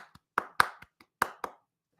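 Hand claps beating out an odd-meter rhythm, sharp, close claps in uneven groupings with short gaps, ending after about a second and a half with no talking.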